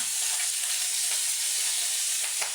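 Mother frying sorshe bhola, a fish cooked in mustard paste, in a pan: steady, close hissing sizzle with faint crackles throughout, no voices.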